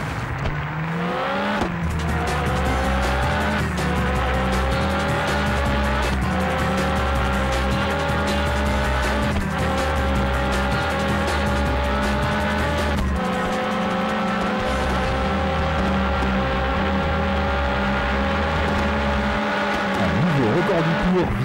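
A race car in the 24 Heures du Mans PlayStation game runs off the track; a loud, continuous engine drone shifts pitch and revs with brief squealing tires, and a commentator's voice sits under it.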